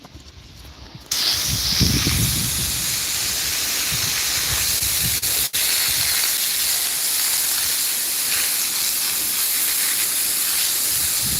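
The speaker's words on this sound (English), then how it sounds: "I'm going to spray out that hole with the hose real quick" A garden hose sprays water into a hole beside a homestead retaining wall. After a brief quieter start, a sudden loud, steady hiss of spray runs continuously to the end.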